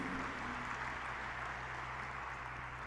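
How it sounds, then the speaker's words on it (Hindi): A large audience at an international Maheshwari convention applauds and cheers during a Home Minister's speech, a steady dense wash of clapping that stays fairly faint and continuous throughout, with no speech over it. "आप लोग खुश हो, ताली बजा रहे हो, हर्षनाद कर रहे हो"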